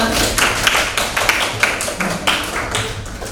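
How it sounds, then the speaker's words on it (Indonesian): A classroom or seminar audience at a vocational school session bursts into dense applause, many hands clapping close and loud with a few sharper individual claps standing out. "Tepuk tangan untuk kita semua."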